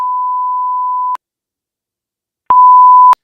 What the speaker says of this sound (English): you're just gonna hear a bunch of beeping